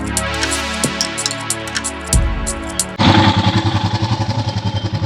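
A Himalayan motorcycle's engine rumbles nearby, idling with a low throb before revving into a loud, rapid chugging pulse that continues steadily.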